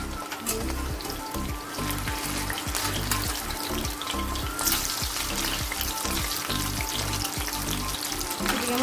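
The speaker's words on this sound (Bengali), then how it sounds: "এদিকে পকোড়া ভাজা শুরু করে দিয়েছি।" Pakoras sizzling as they fry in hot oil, a steady close crackle and hiss that runs throughout with no voices over it.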